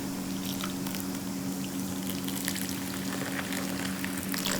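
Coke Zero poured over mahalepi and ice cubes in a bowl fizzes steadily, a dense close crackle of popping bubbles with a faint steady hum underneath and no talk.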